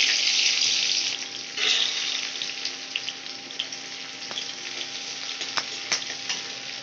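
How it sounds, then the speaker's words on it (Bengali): Chopped onions sizzle loudly as they hit hot oil, with cumin already added, a steady bright frying hiss that eases after a moment into softer crackle with scattered pops and light stirring clicks. "এবার আমি যে কুচনো যে পেঁয়াজগুলো কেটে রেখেছি ওগুলো সব দিয়ে দেবো তেলের মধ্যে"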